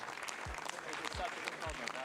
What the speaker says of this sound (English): Thumbs up. Lots of clapping.